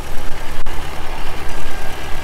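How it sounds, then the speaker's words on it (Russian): A seeding tractor idles in Farming Simulator 15, a steady low engine rumble with a slightly pulsing, even drone and no talk. "припаркуем наш вот этот вот посевной трактор, чтобы он никому не докучал"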